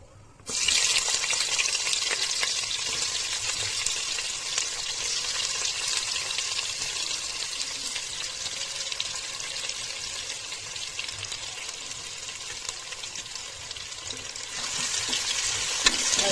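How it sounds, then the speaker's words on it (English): Whole spices sizzle and crackle steadily in cooking oil in a pan for yakhni pulao, a continuous bright frying hiss that starts abruptly and carries on alone. "I'm just frying it up a bit"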